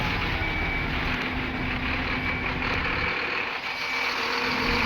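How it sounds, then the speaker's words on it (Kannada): Ten-wheeler truck at a mine reversing: a steady engine drone with a faint, regular reversing beep repeating underneath, heard from moderately close with no voices. "ಟೆನ್ ವೀಲ್ ಗಾಡಿ ನೋಡಿ ಗಾಯ್ಸ್ ಯಾವ ರೀತಿ ಹೋಗುತ್ತೆ ಹಿಂದೆ"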